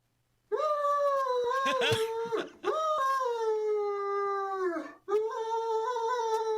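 A dog at the vet, just told it is obese, gives long mournful howling wails in three drawn-out cries with short breaks between, loud and close with no talk over them.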